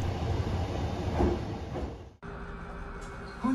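Hankyu Kyoto Line limited express train idling at the Kyoto-kawaramachi terminus, a steady mechanical rumble with a brief dropout midway before the hum resumes, then a short rising tone near the end.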